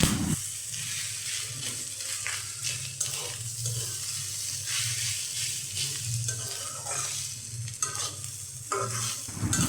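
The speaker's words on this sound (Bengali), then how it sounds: "ঘন ঘন নাড়াচাড়া করতে হবে, না হলে কড়াইতে লেগে যেতে পারে" Fish roe and potato being stirred in a wok, a continuous sizzle of frying with scraping and stirring strokes repeating close by, and no voices.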